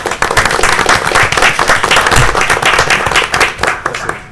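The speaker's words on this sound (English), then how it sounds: "I'd like for her to just give a round of applause" A council meeting audience gives a loud, sustained round of applause in honour of a World War II veteran. Dense clapping runs throughout, with a few sharper claps standing out.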